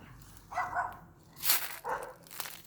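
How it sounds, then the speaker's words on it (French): Dogs bark in a city setting, two or three short barks spaced apart at moderate distance, with a faint sharp yip, heard alone over quiet background noise. "Je suis désolé pour les chiens, on est à la ville encore."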